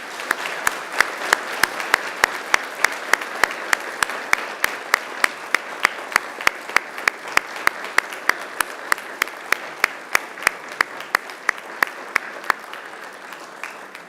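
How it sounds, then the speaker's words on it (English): Steady, sustained applause from graduates at a Macquarie University graduation ceremony, clapping for their families and friends; dense, even clapping with sharp individual claps standing out, continuing for the whole stretch without voices. "And now I invite you to give them a mighty round of applause."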